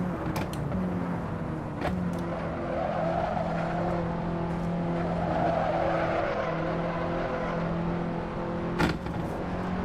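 A race car in Assetto Corsa drones steadily under load with a loud engine tone and faint tire squeal, broken by a few sharp, brief shift or downshift clicks, with no voices.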